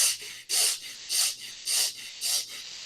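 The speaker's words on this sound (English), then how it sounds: "We will do the chest breathing" Chest breathing in a yoga pranayama exercise: five strong, hissing breaths through the nose in a steady rhythm, each about half a second long and close to the microphone, with no talking.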